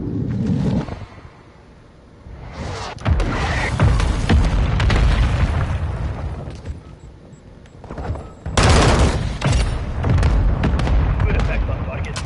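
Artillery strike in Modern Warfare 2: a series of heavy booming explosions with crackling debris, one large blast after a quieter lull and another near the end, mixed with game sounds and radio-style voices.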